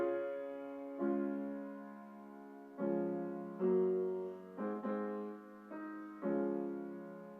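Wagner's Valhalla leitmotif from the Ring Cycle sounds as a stately run of full, sustained chords, each held before the next, played alone with no talk over it.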